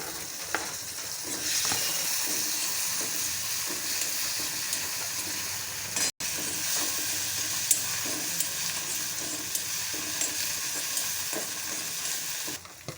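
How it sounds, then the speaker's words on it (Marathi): Tomatoes with turmeric fry in a pan for a Marathi bean curry, making a continuous close hiss and sizzle with occasional soft stirring clicks. The sound is broken by a brief cut near the middle. "मिक्स करूया आणि फ्राय करूया आता आपण त्याच्यामध्ये टोमॅटो टाकूया"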